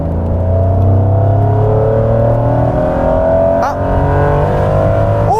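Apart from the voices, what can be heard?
Honda NSX VTEC engine revving while accelerating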